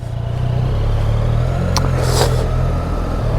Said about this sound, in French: Tiens, c'est la moto de l'auto-école